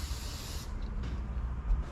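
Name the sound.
silicone spray lubricant being sprayed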